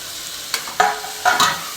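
Chicken and chopped tomato sautéing in a pan for biryani, with a few short stirring scrapes and soft sizzles over a low, steady frying hiss.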